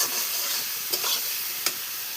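Fish curry broth sizzles in a pan after potatoes have been fried with ground ginger, garlic, cumin and chili, a steady bright hiss with a couple of brief stirring scrapes and no voices.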